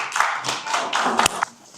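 Members at a redevelopment association delegates' meeting clap briefly, a few loose, irregular claps heard close and moderately loud over roughly two seconds.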